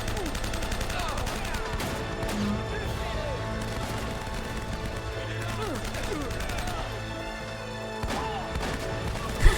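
Gunfire from the video game Uncharted, busy and continuous through the clip with overlapping shots, music and game effects, a louder hit near the end; voices are present in the mix.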